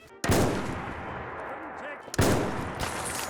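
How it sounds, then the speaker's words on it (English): Boom bugs in a heavily modded Fallout 4 explode as they die, two sharp, loud blasts about two seconds apart, each trailing into a noisy rumbling decay. "So these boom bugs explode when they die"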